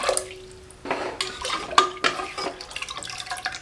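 Four cups of water splash and trickle into a metal cooker pot in short bursts for moong dal sabudana payasam, with light clinks of the vessel, close and moderately loud.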